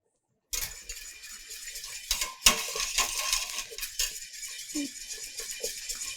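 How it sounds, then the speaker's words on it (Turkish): A utensil stirs butter into a mandarin pudding in a pot, giving soft scraping and light metallic clinks against the pot sides in a steady rhythm, close and moderately quiet, with no talking. "Tereyağımın iyice homojen bir şekilde dağılmasını ve tatlıya lezzet vermesini istediğim için iyice karıştırıyorum."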